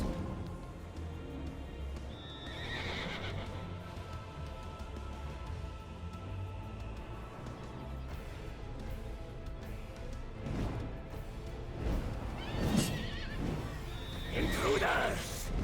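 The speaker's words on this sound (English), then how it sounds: "Clever horse!" A horse neighs and whinnies in the Black Ops 4 Zombies map, with a whinny early on and more near the end over game music and voiced character lines, the neighs sitting fairly close and loud in the mix.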